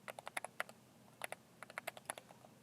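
Typing on a computer keyboard, sharp clustered key clicks in irregular bursts with a short pause mid-way, fairly faint and close, with no voice.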